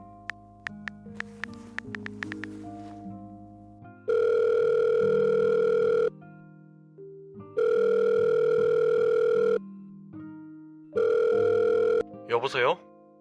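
Telephone in a Korean audio drama: a few tones as a number is tapped in, then three long electronic rings separated by pauses, loud and close, ending with a brief warbling pickup sound.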